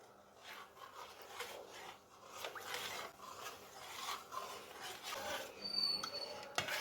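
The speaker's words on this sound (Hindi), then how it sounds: "दूध के अंदर चम्मच को चलाते जाना है कि दूध नीचे ना लगे।" A spoon stirs milk in a pot while custard is being made. It gives a faint, repeated scraping with a soft rhythmic rasp against the pot, heard close up with no talking.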